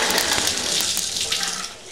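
Water rushes steadily from a newly installed bathtub spout in a renovated washroom, a loud, close, continuous hiss that tapers slightly near the end.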